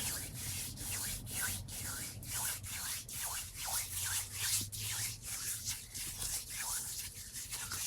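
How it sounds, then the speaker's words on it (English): Two hands rubbing together in close ASMR style, a steady run of soft swishing strokes that repeat in a regular back-and-forth rhythm, near and intimate with no talking. "We can start off slow and then we'll just get progressively faster with the hand rubbing"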